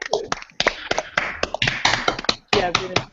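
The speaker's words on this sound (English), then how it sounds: "Turn on our mics and clap for Helen." Participants in a video call clap for a speaker with their mics on, a burst of uneven, overlapping hand claps from several people, loud and close, with some talk mixed in.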